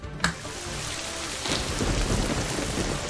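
A thunderstorm with heavy rain comes through an open window, a sharp crack near the start, then steady loud rain with a deep low rumble swelling midway.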